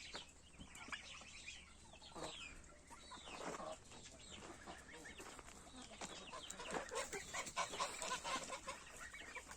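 Chickens and roosters cluck and call continuously in a busy poultry yard, with flapping wings and geese honking among them, moderately near and growing livelier toward the end.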